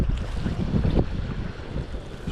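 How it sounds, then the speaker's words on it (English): Strong wind buffets the microphone outdoors beside a river during salmon fishing, a steady broadband roar with louder gusts around the middle and no talking. "This wind's a bit of a peak,"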